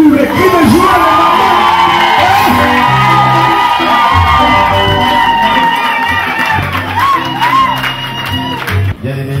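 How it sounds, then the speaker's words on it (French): At a wedding blessing ceremony, women raise loud joyful shouts and ululating trills, a sustained crowd of whoops and cheers close by with a little talk mixed in. "Les mamans, vous êtes où? Les cris de joie"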